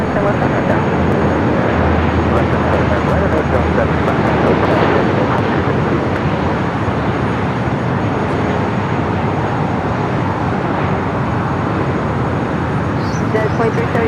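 Airbus A350-900 airliner, two years old, at Los Angeles airport, with a steady, loud broadband jet roar throughout, continuous and close, while radio voices talk over it.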